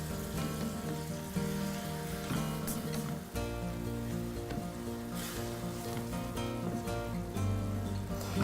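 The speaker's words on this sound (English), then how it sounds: "Now what gives the risotto its creamy texture is the constant stirring." Risotto simmering and sizzling steadily in a pan during a cooking class, a dense continuous bubbling hiss with soft stirring scrapes, no talking.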